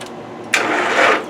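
A 1995 Nissan engine cranks over slowly on a weak battery, a steady churning drone that swells after a brief quiet moment and continues close and fairly loud.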